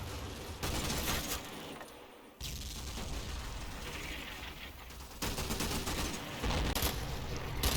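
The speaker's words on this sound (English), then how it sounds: "As my barrage continues along the ridgeline Angelo." An artillery barrage in the Combat Mission game, set in the Monte Cassino battle along a ridgeline, delivers rolling bursts of gunfire and booms in sustained waves, loud and continuous with brief lulls.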